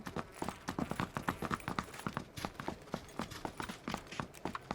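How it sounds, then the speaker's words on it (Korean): Footsteps on wooden flooring in the battle-royale game PUBG, a steady run of quick hollow thuds that continues the whole time, fairly close and clear, with no talk over them. "자꾸 나무 밟는 소리"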